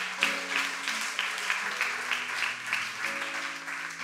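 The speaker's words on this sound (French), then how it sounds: "Applaudissez-moi le Seigneur" A congregation at a French-language church seminar claps steadily in praise, a dense ongoing patter of many hands, with sustained tones, likely music or voices, underneath.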